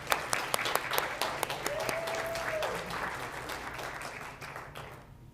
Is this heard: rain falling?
no